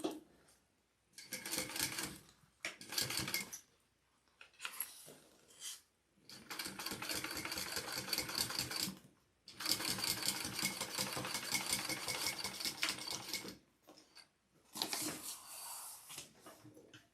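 A sewing machine top stitches a zipper bag in several bursts, each a close rapid mechanical whir of a few seconds, separated by short quiet pauses, the longest runs in the middle.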